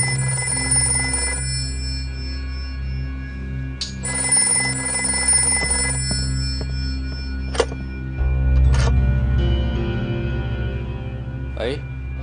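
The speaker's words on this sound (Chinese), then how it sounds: "电话铃响那么长时间" A telephone bell rings in a film scene, repeated ringing bursts with pauses between them, moderately loud against a quiet indoor background with occasional knocks.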